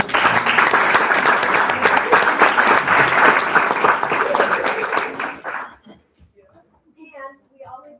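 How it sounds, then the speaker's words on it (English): A room full of people applauding girls' athletes at a school board meeting, dense clapping for about five and a half seconds before fading out, then a voice speaking briefly in the quiet. "let's give them a round of applause"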